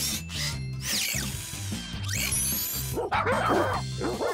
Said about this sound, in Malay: Rocky, ubah suai alat kawalan supaya ia tak buat bunyi anjing lagi.